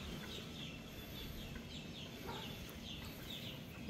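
Soft, repeated clucks and short calls from a fighting rooster over a steady outdoor background hum, faint and somewhat distant throughout.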